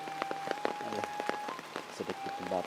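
Heavy rain pouring down on a rural village in foggy weather, a steady close patter of drops striking surfaces, with scattered louder splashes and drips throughout and no talk.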